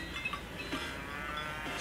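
A cow moos in Mario Kart Wii, one drawn-out lowing call over a steady background hum, with no voices.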